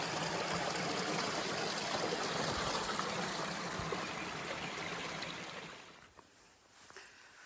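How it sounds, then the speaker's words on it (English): The Tengyagu river in Tucha village, a Liangmai Naga village in Northeast India, flows with a steady close rushing babble that fades sharply near the end. "We have beautiful river, and this river name called Tengyagu."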